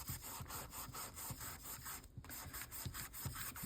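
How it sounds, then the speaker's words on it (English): A Neocolor crayon is rubbed into paper for a junk journal. A close, scratchy rubbing rasp repeats in quick back-and-forth strokes at a steady rhythm over a constant background hiss. "I'm kind of rubbing it into the paper."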